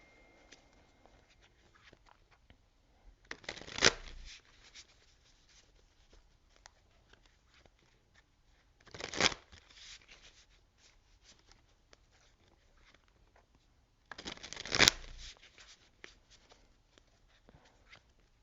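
Tarot of Dreams tarot cards being shuffled in three short, crisp riffling bursts spaced several seconds apart, close and fairly quiet in an otherwise hushed room.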